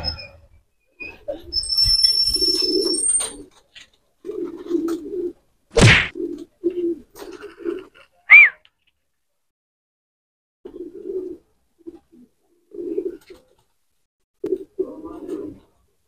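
A racing pigeon home from a training toss in Pagbilao, Quezon lands at the loft, with soft cooing and a sharp flapping thwack of wings among brief bursts of nearby voices.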